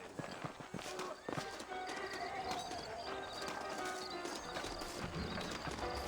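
Horse hooves clip-clop steadily on the ground while a horse whinnies in the Western video game Red Dead Redemption, set in New Austin, with game music and voices mixed underneath.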